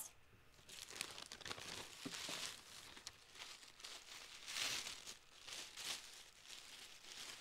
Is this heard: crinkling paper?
yes